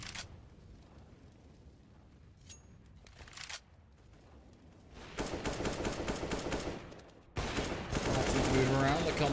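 Pistol fire from CZ and P250 handguns in the video game CS:GO rings out in fast, dense bursts during a match, growing louder and near-continuous toward the end, under some background game noise.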